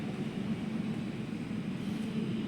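A large airplane taking off or landing at an airport, heard as a steady, broad engine roar held at an even level from start to finish.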